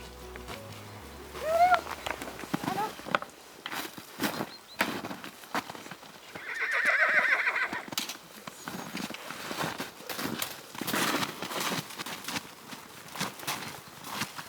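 Donkeys move about outdoors in an isolated mountain valley in winter, with soft scattered hoof steps and shuffling close by, a brief low bray-like call rising midway, and faint rustling throughout.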